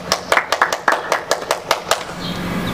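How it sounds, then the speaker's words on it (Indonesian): Children clapping their hands at a small-class Sunday school worship service: about a dozen sharp claps in an irregular, roughly steady rhythm, close and fairly loud, before the claps stop and a quieter room tone remains. "Tepuk tangan buat Tuhan Yesus."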